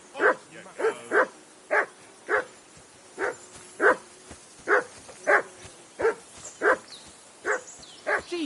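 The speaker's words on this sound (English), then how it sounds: "Jesus, Henry, that barking's driving me nuts. Can you get your dog to shut its beak?" A dog barks repeatedly in Kingdom Come Deliverance 2, sounding at a campsite on a riverbank, with a dozen evenly spaced, mid-distance woofs over soft ambient background.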